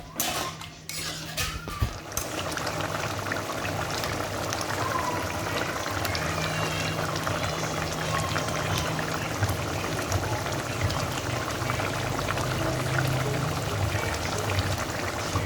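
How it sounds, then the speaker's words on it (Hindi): Water splashes into a hot pan of mustard vegetable curry, a loud continuous sizzle and bubbling with spoon and pot clatter near the start, no talk over it. "मैं हल्का सा भून करके और उसके बाद में मैं इसमें पानी डाल दे रही हूँ"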